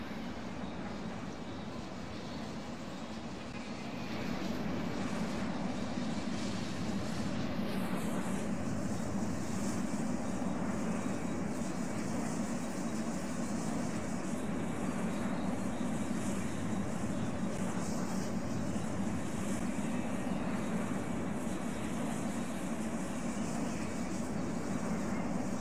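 Airplane in the Roblox flight game Aeronautica taxiing along the ground, a steady, loud engine hum and rumble that swells after a few seconds and then holds a constant drone.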